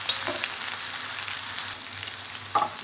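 Chopped onion fries in hot oil in a pan for an eggplant fry, giving a steady close sizzle throughout with a brief stirring clatter near the end.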